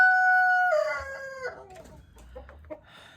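Rooster in a homestead chicken coop giving one loud, close crow, followed by soft clucking from hens.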